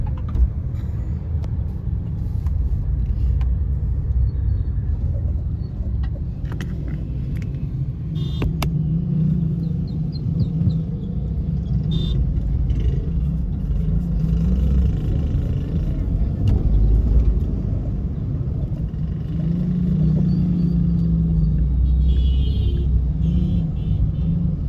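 Road traffic on Multan Avenue Road near Babra Town, with a steady low rumble of cars and vehicles passing in a slow, congested flow, continuous throughout with some background chatter.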